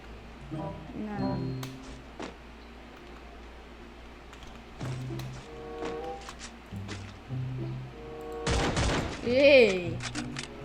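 Several bursts of gunfire in a shooting video game, moderately loud, with one heavier volley near the end, mixed with game effects and people talking.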